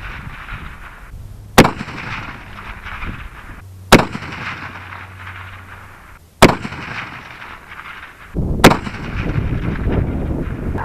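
Four loud, sharp rifle reports from a Springfield M1903 fired at a target about 700 yards away, spaced a couple of seconds apart, each with a rolling echo trailing off into the open air.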